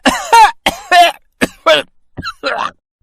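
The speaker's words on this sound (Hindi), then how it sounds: "आप इस तरह खांसने क्यों लगे?" A person coughs loudly in a series of about seven harsh, throaty bursts spaced over three seconds, close and alone with no talk over them.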